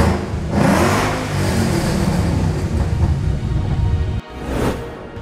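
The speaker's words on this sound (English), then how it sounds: "Sweet, sweet V8 rumble." A modified Ford Mustang V8 muscle car with bolt-on upgrades revs hard on a dyno, a loud continuous rumble that surges, briefly cuts out near the end, then climbs again, with no talking.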